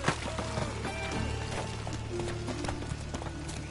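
Roach, a horse in The Witcher 3: Wild Hunt, gallops with a steady clip-clop of hooves, moderately quiet and close, over faint in-game background sound and soft tonal notes.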